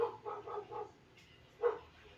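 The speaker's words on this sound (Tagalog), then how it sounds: "Maraming aso." Dogs bark outside on a street: a quick run of four fairly faint barks, a pause, then one more bark, heard at some distance.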